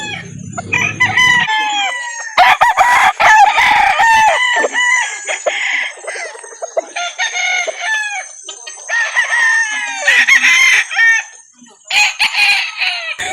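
Several gamefowl roosters on a farm in Calauan, Laguna crow repeatedly and cluck, loud and close, overlapping calls one after another with brief gaps, no talking.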